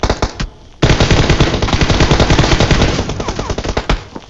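Rapid bursts of automatic gunfire in the mobile shooter game PUBG Mobile: a few sharp single shots, then a dense, loud sustained volley of rattling fire that breaks into separate cracks toward the end.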